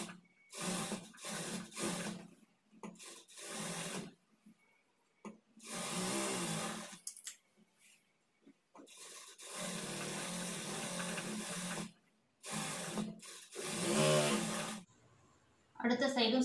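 Sewing machine stitching the edge of a nighty, loud whirring runs in repeated bursts with pauses, a voice speaking between them.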